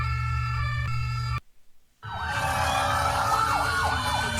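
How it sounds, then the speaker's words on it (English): A police car siren from an emergency alert compilation: a steady electronic tone cuts to a brief silence, then loud, fast sweeping wails rise and fall repeatedly to the end. "This is a police car."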